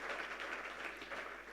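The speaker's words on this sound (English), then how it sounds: "a big round of applause for all of them" Audience applause for award participants at an awards ceremony, a steady wash of many hands clapping, faint and distant throughout.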